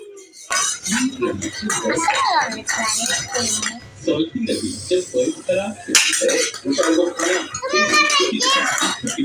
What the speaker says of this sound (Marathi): काय भांडी घेऊन खेळतात